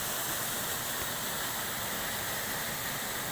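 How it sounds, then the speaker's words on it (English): A waterfall near a homestay in Borong, Sikkim roars as a steady, dense rush of falling water, loud and continuous with no voices over it. "The sound of nature's creation, the waterfall."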